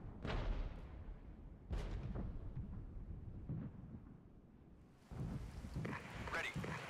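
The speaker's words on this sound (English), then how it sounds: "artillery fire coming in on us over here as well" Artillery fire in the Cold War strategy game Regiments: heavy booming blasts and a continuous rumbling roar, loud and near, with a fresh volley near the end.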